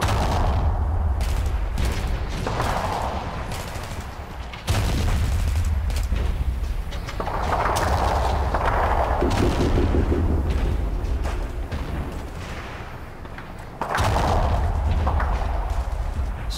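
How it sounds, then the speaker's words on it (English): An artillery bombardment in the Men of War strategy game, set at Kasserine Pass, rolls on as a loud, continuous series of heavy booms and blasts with rumbling low ends, some impacts close and sharp, others duller, with no voices. "I'm just going to be lazy, just pound that area a bit more. Still got some artillery."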